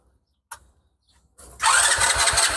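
A used Bajaj Pulsar Discover motorcycle engine cranks with a few faint clicks, then catches and fires into a loud, steady running rumble close by.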